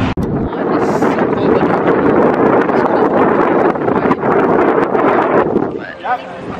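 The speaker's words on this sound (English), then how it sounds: "It's very windy." Strong wind buffets the microphone outdoors near Changi Airport, a loud continuous roar of gusts with brief voices near the end.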